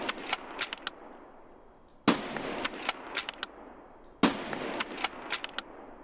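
Three sharp sniper rifle gunshots in the video game Escape from Tarkov, spaced about two seconds apart, each followed by a trail of lighter clicks and clatter, moderately loud with no talking.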